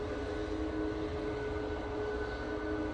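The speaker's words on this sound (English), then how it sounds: "Beautiful A350 there." An Airbus A350 airliner at Manchester Airport on a windy day gives a faint, distant, steady jet roar with no clear rise or fall.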